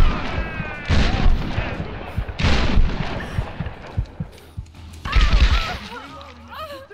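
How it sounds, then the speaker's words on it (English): Shotgun blasts in the Tomb Raider video game come as three heavy booming shots spaced a couple of seconds apart, with a person talking over the game sounds. "How many shots does it take to kill someone with a shotgun?"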